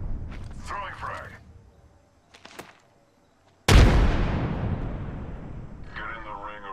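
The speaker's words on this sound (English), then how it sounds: "Throwing frag." A frag grenade from Apex Legends detonates with a single loud, sharp blast that rolls off into a long decaying rumble, after some faint game chatter and clicks.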